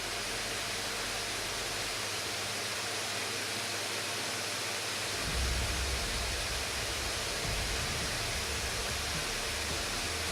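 A steady, loud whooshing of ASUS ROG Zephyrus S GX502 gaming laptop cooling fans under load fills the clip, growing a little heavier partway through as the airflow ramps up.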